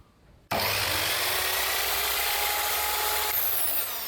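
Ozito 10-inch drop saw motor starts abruptly after a quiet moment and spins loudly with a steady whine for several seconds, then begins to fade as the brake engages near the end.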